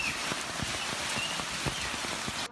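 A heavy rain and hail storm in Istanbul pelts down as a dense, constant roar with distinct hard thuds of hailstones striking surfaces at an irregular, rapid rhythm.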